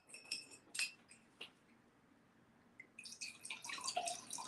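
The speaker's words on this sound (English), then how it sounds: "Why don't you pour a sample of each so it's equally on each glass?" Water trickles and splashes into drinking glasses with light clinks of glass, a burst of pouring at the start, a quiet gap, then a longer, fuller pour close by.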